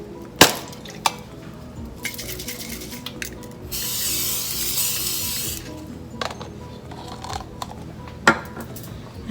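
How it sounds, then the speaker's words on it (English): Coconut oil cooking spray hisses into a Le Creuset pan on medium heat in one steady burst lasting about two seconds, framed by light clinks and knocks of cookware before and after. "now we're going to put some of the coconut oil spray"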